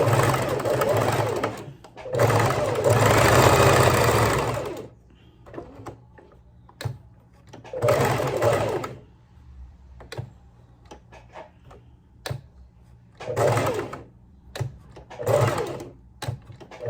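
A sewing machine stitches a seam slowly in bursts, with several long runs of steady mechanical whirring separated by quiet pauses filled with small clicks and handling noises, close and fairly loud.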